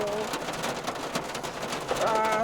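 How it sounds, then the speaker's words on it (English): Light rain falls steadily as a soft, even hiss around a spot where a Peugeot 307 engine is being repaired, with a faint tonal sound near the end. "it's not really raining heavily, just small rain"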